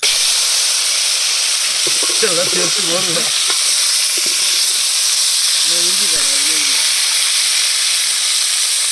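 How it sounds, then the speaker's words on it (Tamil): Crab fries in hot oil in a pan on a stove, giving a loud, continuous, close sizzling hiss throughout, with brief voices talking over it. "இப்போ வந்து நம்ம நண்டை கொட்ட போகிறோம்"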